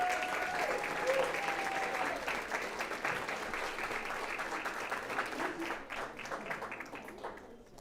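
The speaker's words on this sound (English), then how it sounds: "A round of applause." Applause at a Weslaco ISD school board meeting honoring the Weslaco High School girls soccer team, district champions, with steady dense clapping from a room of people throughout, easing slightly toward the end, with some voices mixed in.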